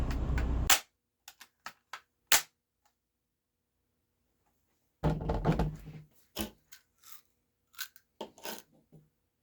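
A Daisy SG22 air rifle pumped five times fires Gamo Raptor pellets. A sharp, loud crack comes near the start, with scattered mechanical clicks and handling taps. A burst of shorter clicks follows later in an otherwise quiet room.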